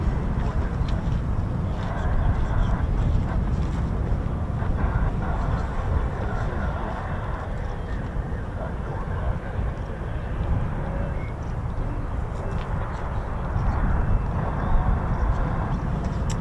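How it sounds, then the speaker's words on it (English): F-22 fighter jets take off at RAF Lakenheath, making a continuous broad roar and rumble that holds steady throughout, heard from some distance. "Those F-22s to take off now."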